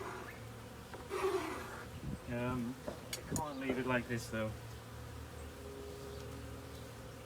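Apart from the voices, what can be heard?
a bee buzzing inside the hive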